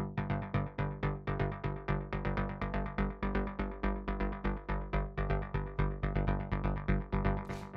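A techno bass synth in a futuristic style pulses rapidly and rhythmically on one note, each hit decaying quickly in a steady driving pattern. It plays alone and is fairly quiet.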